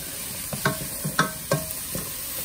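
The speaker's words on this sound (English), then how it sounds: "So now we're gonna cook the onions in the same pan." Onions cooking in a pan without oil after steak was cooked in it, a soft steady sizzle punctuated by several light clinks and scrapes of stirring.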